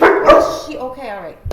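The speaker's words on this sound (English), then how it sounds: "Sorry about the barking." A dog barks a couple of times close by, followed by a brief whining tone, while a person speaks over it.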